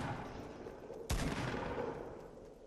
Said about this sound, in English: He just shot the tree.